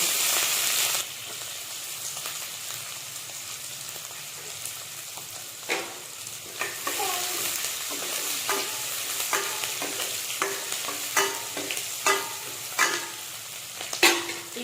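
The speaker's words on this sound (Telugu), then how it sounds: "ఇవి ఫ్రై అవుతున్నప్పుడే" Chillies and onions fry in hot oil with a steady sizzle, broken by repeated scraping stirs of a spoon in the pan, close and with no voices.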